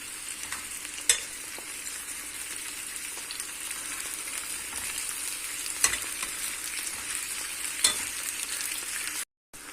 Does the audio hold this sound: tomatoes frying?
yes